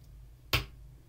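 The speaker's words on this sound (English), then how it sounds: "I clap." A single sharp hand clap, close and crisp, in a quiet room during an ASMR recording, then silence.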